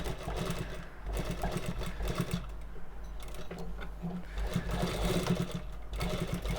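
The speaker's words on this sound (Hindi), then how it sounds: "इस तरह से डोरी को हम अंदर रखेंगे और बिल्कुल किनारे पे सिलाई लगानी है।" A sewing machine stitches a drawstring along the edge of a kurti, running steadily with a rapid mechanical chatter that pauses briefly, close and moderately quiet.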